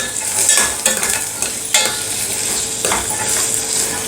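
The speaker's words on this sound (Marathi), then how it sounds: "आता या भाज्यासुद्धा आपल्याला अगदी थोड्याशा परतून घ्यायच्या आहेत" Vegetables stir-fried briefly in a pan for foxtail millet pulao: a steady close sizzle with repeated scraping strokes of a spatula and a few sharp clinks against the pan, with no talk.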